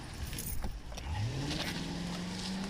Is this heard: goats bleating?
no